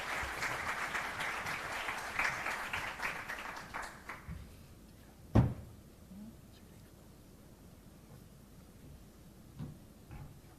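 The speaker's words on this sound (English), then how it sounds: "give them a round of applause" Applause from a financial services summit audience fills the first few seconds, then fades out, leaving a quiet room with a single sharp knock and faint shuffling.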